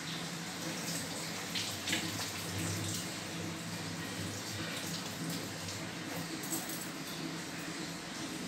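Hands washed under a running tap, a steady moderate rush of water with faint splashing changes, continuous and close, with no talk.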